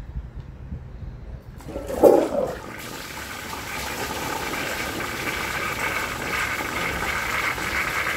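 A 1983 American Standard toilet flushes with a dish towel in the bowl, a brief gurgling surge followed by a steady rushing refill that runs on at even volume.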